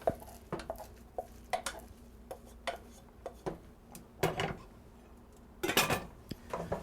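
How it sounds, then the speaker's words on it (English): Cooked rice dumped into a pan of garlic and fresh ground black pepper for fried rice, heard as scattered utensil clatters and scraping knocks against the pan, with a louder burst of stirring near the end. "So now I'm going to dump my rice in there"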